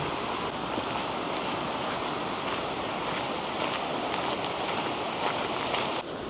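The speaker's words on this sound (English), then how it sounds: "We have made it back to the beach." Waves rolling onto a beach at Eidfjord, Norway, a steady continuous wash of surf mixed with wind noise, no talking.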